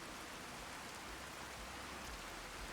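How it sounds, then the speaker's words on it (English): Steady, dense rain falls in a video game, a constant even hiss of downpour with no breaks, fairly close and filling the whole scene on its own. "There's no way they should be able to hear me over this rain"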